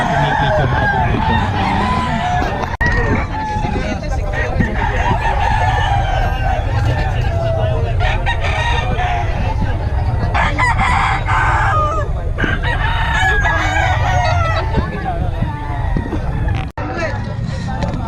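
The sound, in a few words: roosters crowing and chickens clucking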